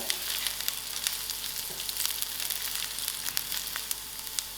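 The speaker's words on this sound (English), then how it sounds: "cinnamon stick to it. And my curry leaf. Let it fry together." Cinnamon stick and curry leaves frying in hot oil, giving a steady, close crackling sizzle with scattered sharp pops throughout and no talking.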